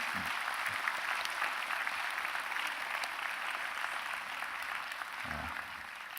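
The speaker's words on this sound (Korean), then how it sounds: "우리 한번 큰 박수로 우리 아버지들에게" A church congregation at a Sunday service applauding the fathers on Father's Day, a steady, even roar of clapping heard from a distance at a modest level, with a faint low voice briefly underneath.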